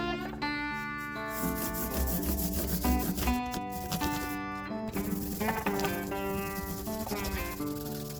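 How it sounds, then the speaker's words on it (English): Fine 1500-grit sandpaper rubs steadily across an acoustic guitar's finish in a continuous, close scratching texture, with quiet music playing underneath throughout. "Still sanding through the grits. I'm up to 1500."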